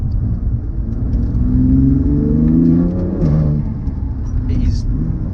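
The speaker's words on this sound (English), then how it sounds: "a lot of people don't like the sound of the S55" A BMW M2 Competition with its S55 engine driving on the road gives a steady, loud mid-range drone that swells briefly as it pulls harder, then eases back to a constant rumble.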